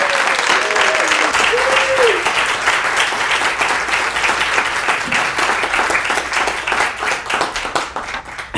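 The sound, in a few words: audience applause for a lecturer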